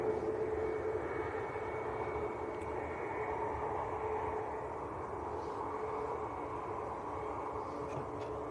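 Airliner in Henrik Wergeland livery at Manchester Airport, a steady broadband jet roar with a low rumble and a faint tonal whine, fairly loud and continuous, no voices.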